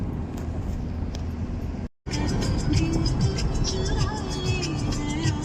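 Car driving at about 100 km/h on a highway in the Konkan region near Devgad, a steady loud road and engine roar with wind, broken by a brief dropout, then continuing.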